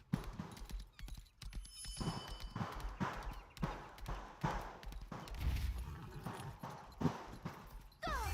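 Horse hooves clip-clopping in the Lost Ark video game as a white horse trots, a steady rhythmic series of close hoof beats over game ambience, fairly faint with no talk.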